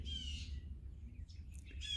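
Birds chirp in a middle Tennessee backyard, with a few faint, distant tweets over a low outdoor rumble.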